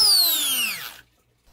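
The electric motor driving a 3D-printed vacuum pump whines high and loud, then its pitch drops steadily as it spins down, cutting off after about a second to near silence.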